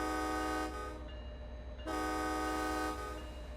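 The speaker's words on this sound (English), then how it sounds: "You guys heard the horn there." In Train Sim World 2, an MBTA commuter locomotive sounds its horn in two loud, sustained blasts separated by a short gap, over a steady low rumble.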